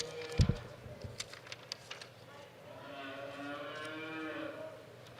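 Cattle low in a long drawn-out moo at a junior heifer and steer show at a stock show, preceded by a few scattered knocks and clatters in the pen.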